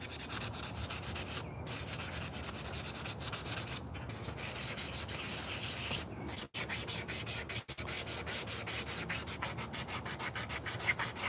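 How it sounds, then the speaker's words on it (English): Continuous rubbing of sandpaper against a carved wooden spoon, a steady scratchy rasp with only a couple of brief pauses, close up and alone. "That's what we're doing now, sanding it all down."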